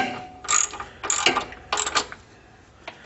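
A ratchet tightening a car's oil drain plug, with three short bursts of rapid clicking close by, followed by a faint single click.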